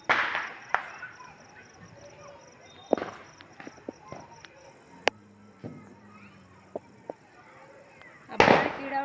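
Firecrackers burst during a Lakshmi Puja Diwali celebration in Chhattisgarh, with sharp cracks scattered through the night and loud clustered bangs near the start and end, while smaller pops and footsteps fill the gaps.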